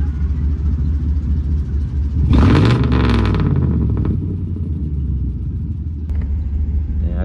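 A truck with its wide pipe eliminator removed, idling with a loud, deep exhaust rumble throughout that swells into a brief revving burst early on, then settles back to a steady low drone.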